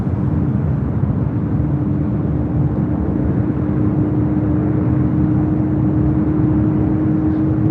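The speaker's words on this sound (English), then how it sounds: "That is a Southwest flight arriving on 7 right there on the south side." Southwest Airlines jet arriving on runway 7 right at LAX, a steady low engine rumble and whine heard from a distance, droning evenly with no pauses.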